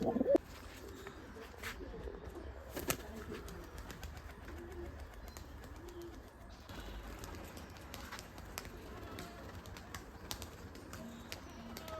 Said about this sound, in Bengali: এই গুলো আমার বাসার একবারে পুরাতন কবুতর দেখুন